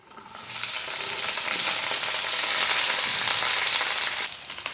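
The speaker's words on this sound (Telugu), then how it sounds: "ఈ ఉల్లిపాయలు, కరివేపాకు అలాగే పోపు దినుసుల్ని మనం ఆయిల్లో కొంతసేపు ఫ్రై చేసుకుందాం" Onions, curry leaves and tempering spices sizzle steadily in hot oil, a loud crackling hiss that builds and holds for several seconds with occasional stirring.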